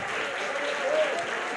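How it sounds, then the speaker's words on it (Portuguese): A church congregation claps in a brief, steady wash of applause with a faint voice underneath. "se quiser aplaudir, pode"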